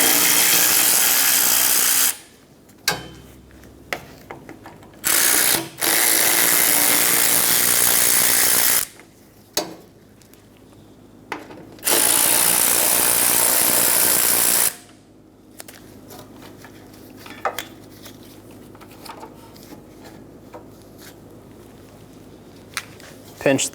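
A power tool runs in several loud bursts while removing the 8mm condenser bolts on a 2012-2020 Chevrolet Sonic 1.8L, with quieter clicks and handling noise in the gaps between runs.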